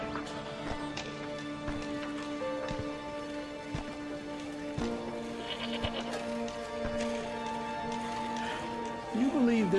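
Goats bleat repeatedly, close by, in the Homefront video game, with hoof clops and game voices talking over the animals.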